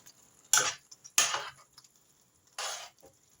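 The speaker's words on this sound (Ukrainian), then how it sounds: "все гарненько розмішую" A spoon clinks against a pot while spicy vegetable stew with eggplant is stirred, three distinct scraping, clattering strokes spaced apart with quiet gaps between, close and moderately soft.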